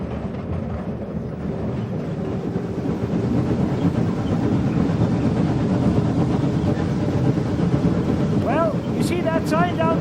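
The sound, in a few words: California Skunk Train slowing down with the brake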